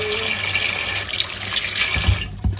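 Tap water runs steadily as washed frozen seafood is drained in a kitchen, a close, continuous splashing rush with a few clunks near the end.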